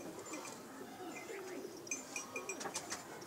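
Soft, low pigeon coos murmur close by, with a few faint chirps and light clinks scattered through.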